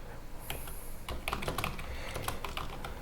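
Someone types on a computer keyboard for a typing skill test, producing close, rapid, continuous keystrokes with a few sharper clicks like the Enter key.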